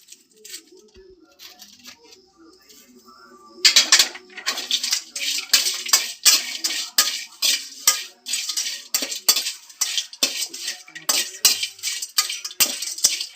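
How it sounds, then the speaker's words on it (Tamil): Cinnamon and whole spices dry-roasted in a kadai for homemade masala powder are stirred with a metal ladle, giving sharp rhythmic scrapes and clinks against the pan after a quiet opening, close and fairly loud. "பட்டையை போட்டு வறுக்குறாங்கப்பா."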